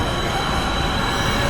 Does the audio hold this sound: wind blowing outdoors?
no